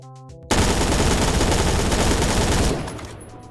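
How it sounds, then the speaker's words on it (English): HK417 rifle firing in the video game Phantom Forces with a sideways grip fitted, a loud dense burst of rapid automatic shots lasting about two seconds before cutting off into a fading echo. "Here's footage of the HK417 with the sideways grip."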